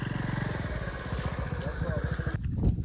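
A motorbike engine chugs steadily at close range as a family rides along on it, with a rhythmic putter that continues throughout.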